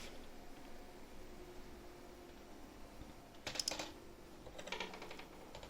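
Typing on a computer keyboard to name a new folder sits as a faint run of key clicks near the end, with a brief burst of keystrokes under low background hiss and no speech.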